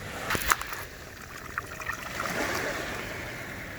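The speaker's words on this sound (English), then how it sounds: "Let me go see if I can wash this off." A found ring being rinsed in water, with gentle trickling and sloshing plus a few small splashes near the start, steady and fairly quiet throughout.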